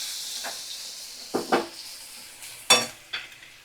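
Ginger garlic paste and garam masala stirred in a pan, a soft steady sizzle of frying broken by several sharp scrapes and clinks of a spoon against the metal, close up and with no talk.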